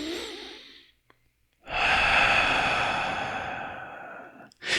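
A slow, deep breath drawn in and then let out, close and audible, with a long steady exhale following a brief pause after the inhale.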